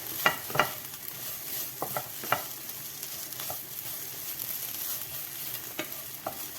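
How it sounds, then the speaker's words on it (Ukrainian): Onions fry in a pan with calf liver, a soft continuous sizzle broken by occasional scrapes and knocks of a utensil stirring, close and fairly quiet, with no talk. "Так, Добре перемішуємо. І ще трішки підсмажуємо під кришкою."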